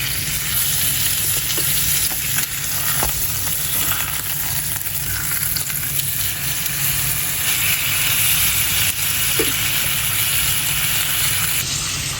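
Meat sizzling steadily in a hot pan as it is flipped, an even, fairly loud frying hiss lasting the whole stretch with a few small clicks and knocks.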